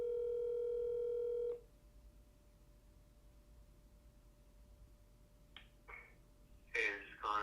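A phone call rings out before reaching voicemail: a loud ringback tone for about a second and a half, then a faint steady tone over hiss, followed by brief clicks and a short burst of a recorded voice near the end.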